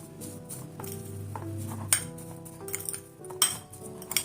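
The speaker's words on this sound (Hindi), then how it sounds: "इसको मैं मिक्स कर लूंगी अच्छे से।" A spoon clinks and scrapes against a metal pot while lemon juice is mixed into a keema and tinda masala mixture, with a steady low hum beneath and a few sharper clinks standing out.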